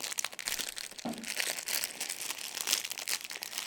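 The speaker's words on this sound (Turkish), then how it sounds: "Şöyle bir paketlenmiş. Açmaya çalışacağım. Ama nasıl açabilirim?" Plastic wrapping on a face mask package crinkles and crackles as it is handled and pulled open, close and fairly quiet, with no voices.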